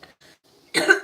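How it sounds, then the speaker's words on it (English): A single harsh, close cough bursts out after a second of near silence, sounding wet and phlegmy. "Listen to my cough though"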